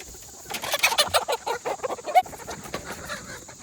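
Backyard chickens and several young roosters clucking, a run of quick close clucks and squawks in an irregular burst over quiet background.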